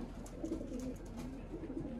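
A racing pigeon coos softly in low, rolling calls, close but quiet, over faint background noise.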